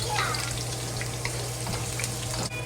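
Ginger and scallion frying slowly in hot oil, giving a steady, close, continuous sizzle and crackle with faint stirring, no talking.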